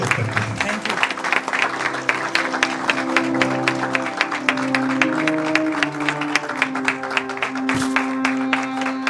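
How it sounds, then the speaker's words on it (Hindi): An audience at a ceremony honouring Param Vir Chakra recipient Captain Yogendra Singh Yadav breaks into sustained applause, dense clapping running throughout over a steady musical backdrop. "आइए जोरदार तालियों के साथ कैप्टन योगेंद्र सिंह का स्वागत करते हैं।"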